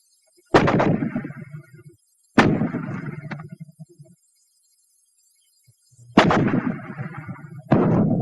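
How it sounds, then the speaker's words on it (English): Four fragmentation grenade explosions from a WWII-era training film, each a loud, sharp blast with a decaying rumble, two in quick succession early and two more close together after a silent gap. "The Fragmentation Grenade."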